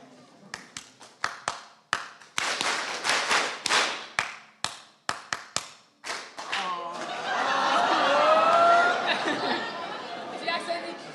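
A group audience claps a rhythm, with sharp hand claps in irregular clusters, then the clapping gives way to loud overlapping chatter and laughter from the crowd.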